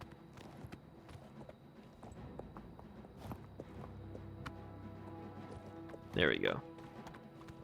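Hoofbeats of the horse Shadowmere walking in Oblivion, a steady soft clip-clop of steps under game ambience, with someone speaking briefly and a louder burst near the end.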